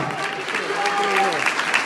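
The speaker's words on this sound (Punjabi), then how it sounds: "ਜ਼ੋਰ ਸੇ ਤਾਲੀ ਵਜਾਓ" Church congregation applauding loudly, a dense wash of clapping with voices mixed in over a short burst.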